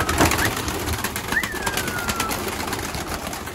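Soft pigeon coos and bird calls in an enclosed space, with scattered clicks and a thin whistle sliding across the middle, no talking.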